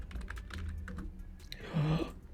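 Quick bursts of keystrokes on a computer keyboard, close and fairly loud, ending in a denser flurry of rapid clicks, with no talking.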